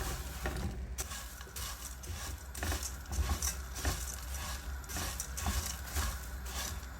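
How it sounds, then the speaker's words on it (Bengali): Puffed rice (muri) being fried with sugar in a pan over a low gas flame, with a steady dry rustling and rattling as a spatula keeps stirring it, close and continuous with no talk. "দিয়ে ভেজে নেব, এতেই মিষ্টি মুড়ি হয়ে যাবে। স্লো গ্যাসে ভাজতে হবে।"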